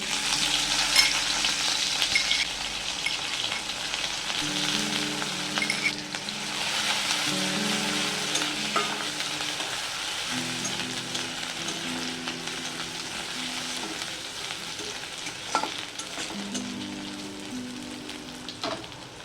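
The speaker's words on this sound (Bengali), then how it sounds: "তেলেই দিয়ে দেব তিনটে শুকনো লঙ্কা ফোড়ন দেব আদা কাঁচা লঙ্কা রসুন" Dried red chillies, ginger, green chilli and garlic hiss and sizzle steadily in hot oil for a pickle, a dense close crackle with occasional stirring and faint background tones, no talk.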